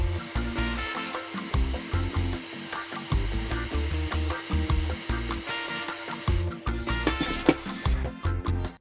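A hot air rework station blows onto a PS Classic circuit board with the airflow turned down. It makes a steady close hiss under a choppy, pulsing low hum.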